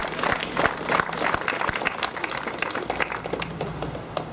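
Outdoor crowd applause at a village demonstration speech, a steady spread of many hands clapping at moderate volume, with a few louder individual claps and faint voices underneath.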